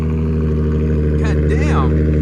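A Nissan 350Z with Motordyne Art Pipes exhaust idles and revs toward about 3,000 to 4,000 rpm, giving a loud, steady, droning rumble, while people talk briefly over it.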